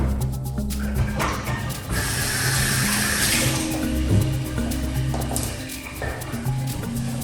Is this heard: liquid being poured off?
yes